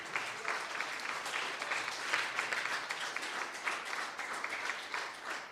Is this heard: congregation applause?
yes